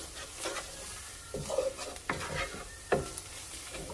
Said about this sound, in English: you just want to create a roux